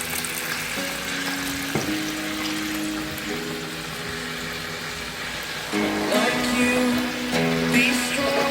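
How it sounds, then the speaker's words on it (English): Beef broth pours into a pot holding baby back pork ribs, a steady liquid splash and trickle that swells louder near the end, with a faint sizzle underneath. "I'm putting in some beef broth so you can cook the meat"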